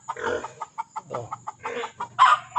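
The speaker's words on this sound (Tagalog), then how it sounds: "Galit na yung manok." A chicken clucks in a rapid series of short, close bursts, ending in a louder, sharper squawk.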